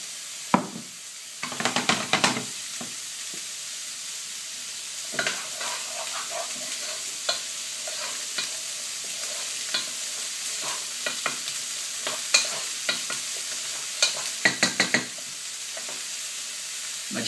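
Ratatouille frying in a pan gives a steady soft sizzle, broken by occasional bursts of scraping as it is stirred, with scattered small clicks in between.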